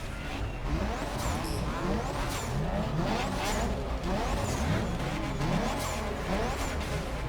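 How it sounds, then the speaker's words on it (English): Liberty Walk Nissan GT-R with all-wheel drive in The Crew Motorfest racing game, the engine revving and shifting repeatedly under squealing tyres, a continuous loud drive with rising gear sweeps. "The GTR has a very distinctive sound."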